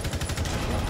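Rapid gunfire in Rainbow Six Siege, a quick burst of repeated shots in a fast steady rhythm, moderately loud, lasting about a second.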